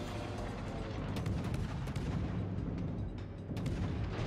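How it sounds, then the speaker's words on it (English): Naval guns of a French destroyer firing at the battleship Georgia in World of Warships: heavy, continuous booming salvos with dense low rumble and sharp cracks, loud and sustained throughout. "we can actually start firing on this Georgia."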